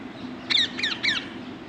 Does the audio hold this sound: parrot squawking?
yes